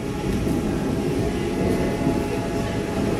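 A steady rumble of a heritage train on the Strasburg Railroad rolling along the rails, a continuous mechanical drone with faint rattling, with no voices.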